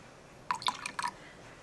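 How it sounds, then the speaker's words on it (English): Vinegar poured in a brief splash into a cup of milk, a quick pair of soft liquid trickling, dripping sounds, faint and close in a quiet kitchen. "I have a cup of milk and I'm going to put a splash of vinegar in it."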